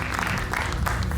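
Studio audience applause on an Indonesian talk show, a loud, dense burst of many hands clapping close by, brief and continuous, with a faint murmur of voices underneath.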